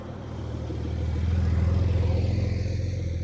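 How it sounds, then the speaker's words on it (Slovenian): A Porsche 911 GTS pulls away, its engine note building from a low idle into a steady, swelling rumble heard from inside the cabin, moderately loud with no talk. "Ok, zdaj pa cajt, da jaz spelem."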